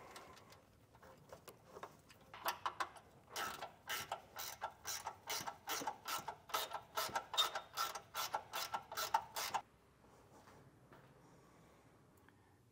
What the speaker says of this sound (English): take your ring terminal, slide it over the stud, and tighten the nut back down